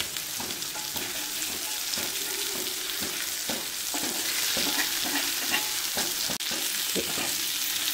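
Fish frying in a pan, a dense continuous sizzle with repeated spatula scrapes and taps, close and loud with no voices.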